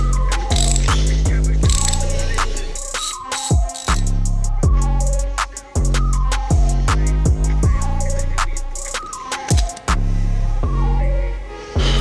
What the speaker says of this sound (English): let's get our spark plug socket and start pulling out these old ones